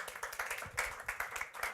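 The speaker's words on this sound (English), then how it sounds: "please give her a warm round of applause" Audience clapping at a growth hacker talk, welcoming a speaker to the stage, with fairly rhythmic, distinct claps heard at a distance in a brief, faint burst.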